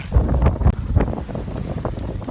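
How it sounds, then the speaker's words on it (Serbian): Strong wind blows outdoors, buffeting the microphone with loud, uneven low rumbles and gusts. No one speaks. "Mnogo jak vetar duva."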